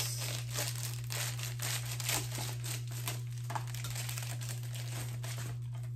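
Plastic shrink wrap on a PS3 Darksiders game case being cut and peeled open, close-up crinkling and tearing in irregular bursts over a steady low electrical hum.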